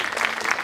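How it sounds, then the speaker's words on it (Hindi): A brief burst of dense audience applause at a cultural festival program, many hands clapping together at once. "जोरदार तालियां"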